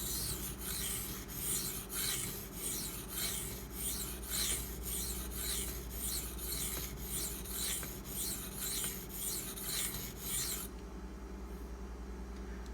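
A Maxamet/D2 steel knife blade stroked across a 1000 grit sharpening stone, an even rhythm of close, gritty rasping scrapes, roughly two per second, over a low background hum, stopping near the end.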